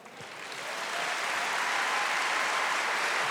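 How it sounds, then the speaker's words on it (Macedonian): Audience applause at a live awards-style stage show, swelling from a quiet start into steady, dense clapping that fills the hall and holds to the end, with no talking over it. "Вака да ја водам со аплауз"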